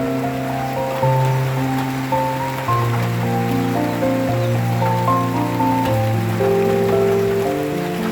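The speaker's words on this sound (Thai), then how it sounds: "ฝนตก ฝนตก" Steady rain falls on an outdoor farm area in the cool of evening, a continuous even patter, loud and close, with no wind, while a tonal droning hum runs underneath throughout.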